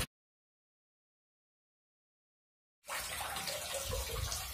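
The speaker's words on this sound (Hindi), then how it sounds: "पानी भर रहा है और स्विच अप होना चालू हो गया है।" Water rushes into a tank fitted with a float switch, a steady loud gush that starts suddenly after nearly three seconds of silence.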